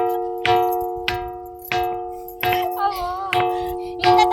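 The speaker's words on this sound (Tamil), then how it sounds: "அது வந்து கல் தட்டினா மணி சவுண்ட் கேட்கும்." A bell rock on Kanchanagiri hill is struck repeatedly with a stone, each tap giving a bright metallic ring that hangs briefly, about eight strikes at a steady pace, with brief murmured voices in the background.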